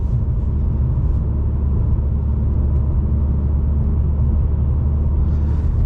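A 2020 BMW M2 Competition with a manual gearbox cruises along, its engine a steady, loud low rumble that holds an even drone throughout.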